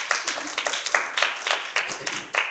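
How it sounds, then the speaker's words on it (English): A church congregation claps its hands, producing a quick, fairly steady run of clear claps from a crowd at some distance, with no talk over them. "Clap your hands."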